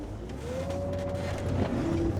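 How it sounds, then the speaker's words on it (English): A car engine rumbles steadily nearby, its hum swelling slightly as it passes, with no voices over it. "here comes another car, my dude"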